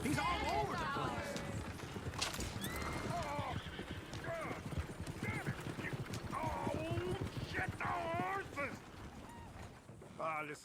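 Horse hooves clip-clop steadily in the video game Red Dead Redemption, mixed with whinnies and neighs, while voices talk over the scene and background noise stays constant throughout.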